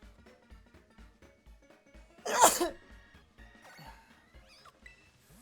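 A single sharp, loud sneeze bursts out close to the microphone in a quiet room, preceded and followed by soft rhythmic clicking and faint game sounds.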